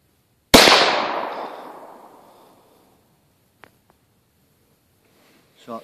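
A single sharp rifle shot bangs at a Tannerite target, its loud blast decaying over about two seconds, followed by a couple of faint clicks and a short burst of voice at the end.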